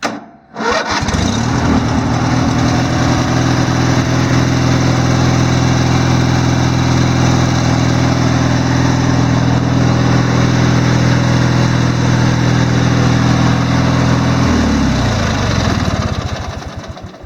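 A hydrostatic riding lawn mower with a 42-inch cut cranks briefly, then catches and runs loud and steady close by for about fourteen seconds before the engine note drops and winds down near the end.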